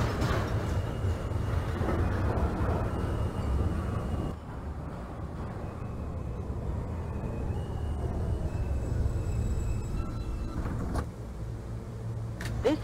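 Simulated New York City subway J local train running toward Brooklyn in the OpenBVE train simulator, an R160 car: a steady loud low rumble of motors and wheels on track, with a brief drop in level partway and rising whines, no talk.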